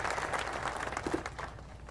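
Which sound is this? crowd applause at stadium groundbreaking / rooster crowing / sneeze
crowd applause at stadium groundbreaking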